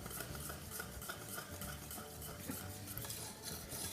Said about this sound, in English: we're just again going to use the whisk just to do little circles